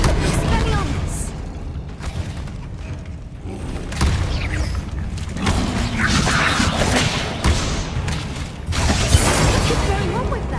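Spell-casting in Hogwarts Legacy, with whooshing magical bursts and booming thuds layered over busy game music and effects, loud throughout with a voice calling out spells.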